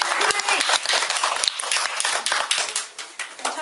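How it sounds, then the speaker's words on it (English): Audience applause at a bookkeepers' quiz event, a burst of close, dense hand clapping from a small crowd that thins out toward the end. "Give her a big clap."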